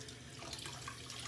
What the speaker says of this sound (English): I have the hot water on, I don't know why it's not getting hot